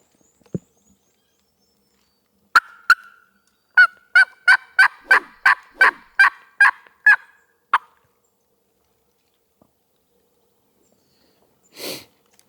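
A wild eastern turkey hen calls from a distance in early April hardwoods, a rapid series of about a dozen sharp yelps in a rhythmic burst against quiet surroundings.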